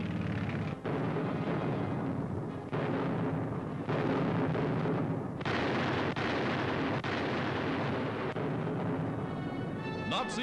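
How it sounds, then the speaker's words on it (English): Big artillery guns firing on the Mareth line in WWII North Africa, heard as a rolling series of loud booms and rumbling blasts over about ten seconds, with a newsreel narrator speaking over them. "the British were attacking the entire Mareth line with tanks and big guns."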